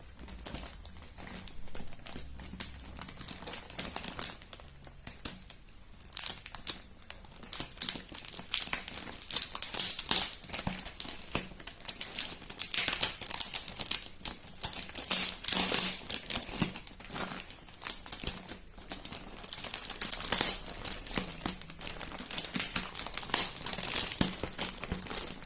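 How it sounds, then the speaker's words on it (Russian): A plastic package of yarn is crinkled and torn open close by, with dense, continuous crackling and rustling bursts that rise and fall irregularly throughout, with no talking. "Так, как бы этот пакет раскрыть?"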